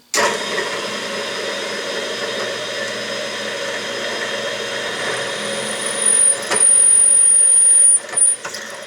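A drill press bores into a block of aluminum in a workshop, a steady loud motor whine holding for several seconds, then rising in pitch and pressure as the bit cuts, with brief dips near the end.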